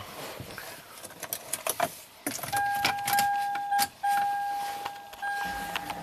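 Keys jangle near a Toyota Avalon as the key turns to the ignition-on position, and a steady two-tone electronic chime comes on partway through and holds, with brief clicks and rustling and no talking.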